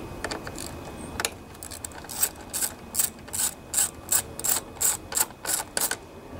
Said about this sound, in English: We also have this bolt that we have to remove.